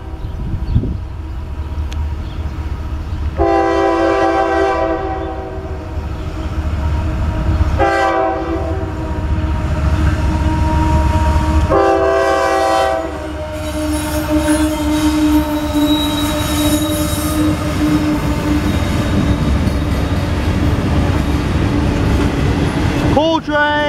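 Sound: freight train passing with horn

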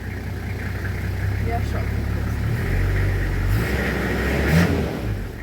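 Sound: car engine idling

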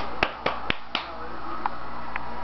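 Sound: hand clapping

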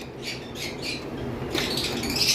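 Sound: lovebird squawking

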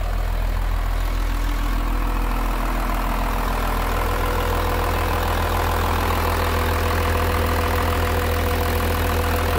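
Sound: noisy vehicle engine running

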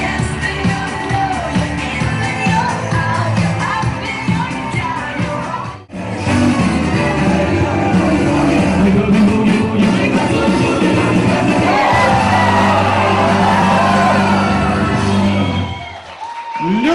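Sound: wedding guests applauding and cheering

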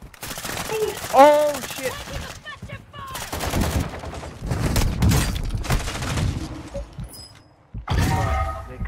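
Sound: sniper gunfire from the video game Warzone 2

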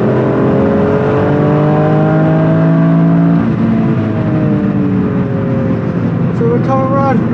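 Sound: Toyota GR Yaris accelerating on race track

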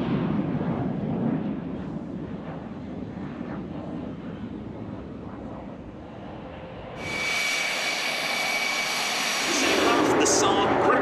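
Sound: Saab Gripen single-engine jet fighter flying at airshow

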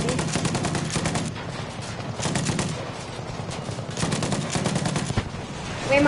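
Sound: shooting from a tank in the video game Battlefield

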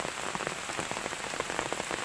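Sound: rain falling

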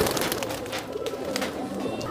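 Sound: pigeons cooing

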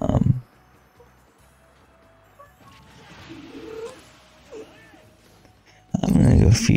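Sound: pet cat meowing

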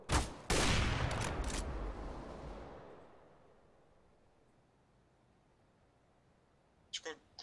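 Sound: gunfire in the video game CS:GO

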